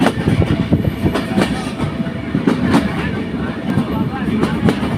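A train rolls over the Bheramara Farakpur level crossing near Kushtia, its wheels clattering in a steady clickety-clack on the rails, loud and close throughout.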